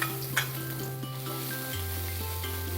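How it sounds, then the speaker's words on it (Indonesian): Shallots stir-fry in hot cooking oil with a constant bright sizzle, while a utensil scrapes and taps against the pan now and then. A low steady hum sits underneath. "Minyak goreng aku udah panas nih, berarti waktunya untuk mengoseng bawang merah."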